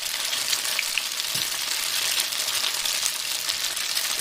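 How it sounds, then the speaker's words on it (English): Pierogi browning in a frying pan, a steady close sizzle of frying that continues evenly throughout with no talking. "we're just basically going to let those brown on the bottom"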